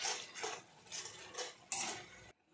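Small-fish curry (chuno mach jhal) stirred in a pan with coriander scattered over it, heard as close, rhythmic scraping strokes of a metal spoon against the pan, four or five sweeps before stopping.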